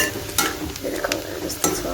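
Chicken achar sizzles in a hot pan as a spoon stirs in Kashmiri red chili, with a steady frying hiss broken by a few sharp scraping clinks.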